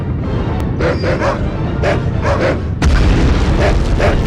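Dogs bark and yelp repeatedly in the 1999 Medal of Honor video game, loud and close, then a heavy grenade explosion booms and the barking carries on over its rumble.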